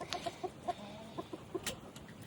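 Backyard chickens cluck softly while pecking at tossed clovers, a series of short, fairly faint clucks in an uneven rhythm with light rustling, no talking.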